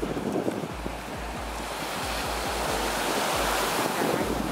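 Waves break on the shore of a big lake at Duluth, Minnesota, with wind buffeting the microphone and a repeated low thud of surf washing in over several seconds.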